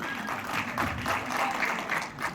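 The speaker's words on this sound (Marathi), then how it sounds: "जोरदार टाळ्या होते." Audience applauding at a stage performance watched by municipal fire brigade staff; moderately distant, fluttering clapping from a smaller crowd with uneven pulses, somewhat faint.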